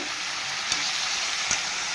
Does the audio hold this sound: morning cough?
no